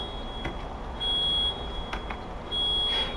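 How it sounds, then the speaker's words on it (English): A car alarm beeping steadily in the background, faint and distant, with its repeating tone swelling in louder bursts and no speech over it. "I'm so sorry about the car alarm in the background."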